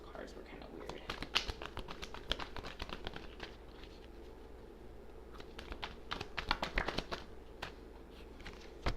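Tarot cards being shuffled by hand, a soft irregular patter of crisp taps and riffles running steadily throughout, close and fairly quiet, with faint talk underneath.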